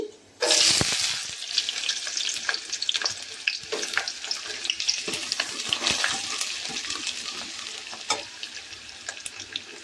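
Onions and green chillies drop into hot oil with mustard seeds, bursting into a loud sizzle right at the start, then frying steadily with crackles and stirring clatter that slowly ease off.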